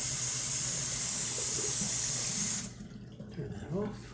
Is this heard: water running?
yes